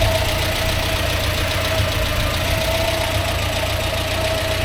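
A motorhome engine idles with its tick-over set slightly too high, giving a steady, close, continuous drone with a faint tonal whine and no talk over it.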